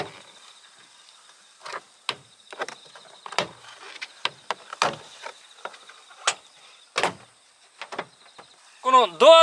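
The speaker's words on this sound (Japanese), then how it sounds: "あとは内装剥がしを使ってこのパネル全体を剥がしていきます" Prying off the inner door panel of a Honda CR-Z with a plastic trim removal tool, a series of sharp clicks and pops as clips release, irregularly spaced and close, ending with a brief rattling creak.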